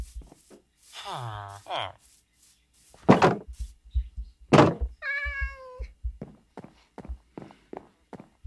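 A Minecraft cat meows several times amid in-game footsteps and thuds, while a player talks over the game sounds.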